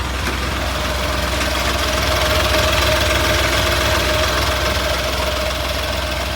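A 2014 Ashok Leyland Dost LS with a rebuilt diesel engine idles nearby, producing a steady, even rumble with a faint knocking throb and a sustained hum. No one speaks.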